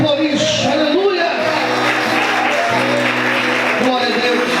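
A church congregation applauding during a sermon, a dense, steady wash of clapping with scattered shouts, loud and close, lasting throughout.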